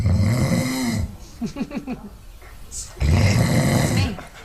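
A person imitates loud snoring, with deep rattling inhales separated by a short, quieter stretch of breathy sounds.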